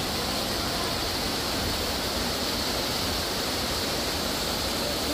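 A waterfall in Infanta, Quezon roars in a steady, dense wash of rushing water that stays loud and unbroken throughout.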